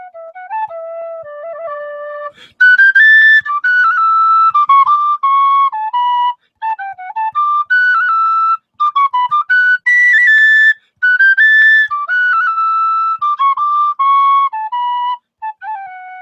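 Irish tin whistle played solo, a bright lilting melody of clear high notes with short breaks between phrases and no voices over it.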